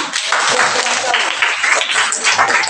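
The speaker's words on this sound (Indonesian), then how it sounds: "Iya, tepuk tangan." A classroom of students clapping together, steady and fairly loud for a few seconds without a clear break.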